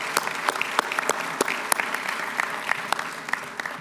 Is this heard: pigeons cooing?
no